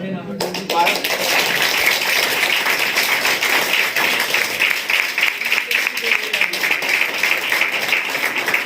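A church congregation clapping hands loudly together in a sustained, dense burst of applause-like claps that fills the room, steady from start to finish with voices mixed underneath.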